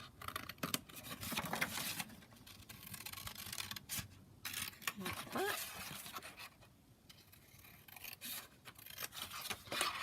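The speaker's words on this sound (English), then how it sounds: "One of the elements from the kit, and then we can just cut that out." Scissors snip out a paper element from a junk journal kit in a close, quiet crafting setting, giving soft intermittent cutting and rustling sounds over about ten seconds with no talk.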